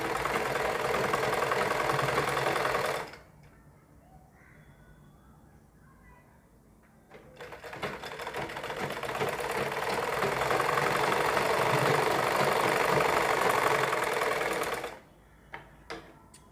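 A sewing machine stitches blue cloth in two long loud runs of fast, even whirring, separated by a quiet pause of a few seconds with faint handling, then stops abruptly near the end with a couple of clicks.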